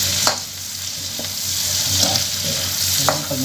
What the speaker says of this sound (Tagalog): Yan, haluin lang ng haluin.